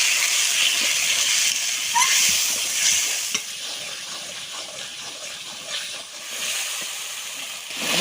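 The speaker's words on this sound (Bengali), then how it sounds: "সুন্দর করে মশলাটা আমি কষিয়ে নেব।" Spice paste with salt, turmeric powder and a splash of water sizzles steadily as it is stirred and fried, a continuous close hiss with occasional louder spits, no talking.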